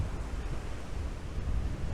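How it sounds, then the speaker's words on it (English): Steady, loud wind buffeting with low rumbling gusts, continuous throughout and swelling slightly toward the end, with no voices. "It is super windy."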